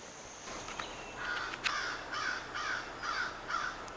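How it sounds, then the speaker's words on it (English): A crow caws repeatedly at a bald eagle perched on a tree limb, a steady series of about six harsh calls, moderately distant and faint over a quiet outdoor background. "a bald eagle over on that limb with a crow right next to him fussing at him"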